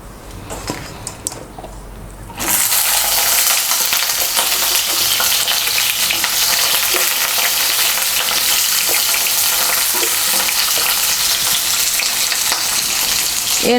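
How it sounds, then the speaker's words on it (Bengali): Two thin eggplants, cut into pieces, hit hot white oil in a wok. After a quiet start they burst into a loud, steady, crackling sizzle that carries on alone to the end, with some stirring. "তেলটা গরম হলে প্রথমে এর মধ্যে আমি বেগুনগুলো ভেজে নেব।"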